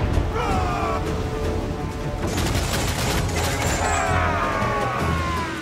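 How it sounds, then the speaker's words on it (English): Mortar fire in the naval battles of Assassin's Creed IV Black Flag: a dense, loud barrage of booms and crashes with whistling shells over constant battle noise. "Mortars, mortars, mortars."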